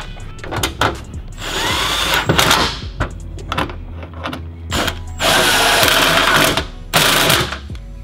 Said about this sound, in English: I'm just gonna take my 10 mil and go around and tighten them all up.